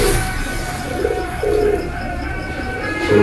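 A pigeon at a Pakistani pigeon breed showing coos softly in a few low, repeated phrases, with steady background noise around it.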